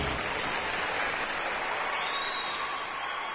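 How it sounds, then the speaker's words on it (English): Studio audience applause at a televised talent-style immigration game show, steady dense clapping filling the whole stretch at an even level, with no clear voices on top. "Let's give our first candidate a big applause."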